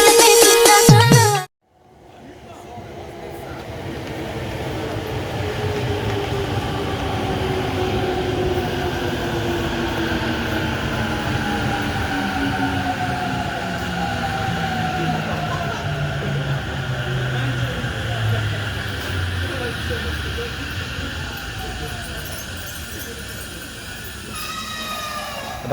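A Shinkansen bullet train rolls through a station, starting with a brief loud burst, then a long steady roar with a falling pitch as it passes close by.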